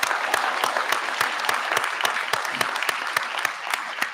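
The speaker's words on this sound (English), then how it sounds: "I'm gonna ask us all to give her another round of applause" An audience at a fall college convocation ceremony applauds, a steady round of clapping with sharp individual claps standing out, sustained evenly throughout at fairly close range.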